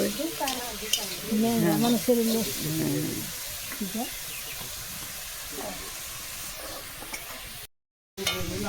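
Dried chillies frying in a pan over a village cooking fire, a steady sizzle and hiss with stirring scrapes, partly under a voice talking in the first seconds, then continuing alone and briefly cut off near the end.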